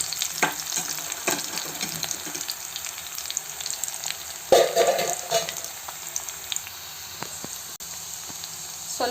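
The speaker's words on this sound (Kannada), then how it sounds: "1 ಮೆಣಸಿನ್ಕಾಯಿ ಹಾಕ್ಕೊಂಡು ಸ್ವಲ್ಪ ಈರುಳ್ಳಿ ಬೇಯಿಸ್ಕೊಬೇಕು ಎಣ್ಣೆಯಲ್ಲೇ." Onion and green chilli fry in oil for a bottle gourd majjige huli, making a steady close sizzle with a brief clatter of stirring midway.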